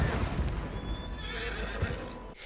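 A frightened horse whinnies loudly in the video game Red Dead Redemption 2, a shrill wavering neigh over the thud of hooves, close and alone, cutting off abruptly.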